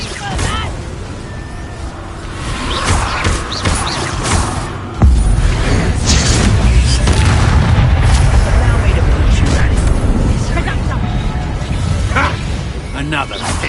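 Incendio fire spell cast in the video game Hogwarts Legacy during a fight: a sudden heavy whoosh and boom of flame, followed by rumbling blasts and combat effects, with voices talking over the action.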